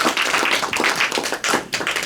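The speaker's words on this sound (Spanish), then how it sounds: "Porque nos damos el aplauso entonces al Señor, porque el Señor es fiel." A church congregation claps in praise at a Spanish-language worship service, a dense, steady patter of many hands with slight surges, close and continuous, with no voices over it.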